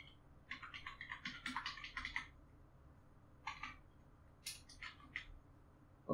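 Quiet bursts of keystrokes on a computer keyboard, a quick run of taps, a pause, then two shorter flurries, close and soft with no talking.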